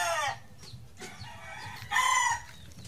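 A straight comb binabay hen clucks in short bursts, a sharp call at the start and another louder one near the end, with a quieter stretch in between and low rumbling background noise.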